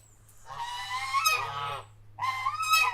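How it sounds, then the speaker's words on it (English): Two farm geese honk loudly and close by in repeated bursts, a drawn-out honking run followed by a short pause and another loud burst, with no talking. "two geese, they talk to everybody"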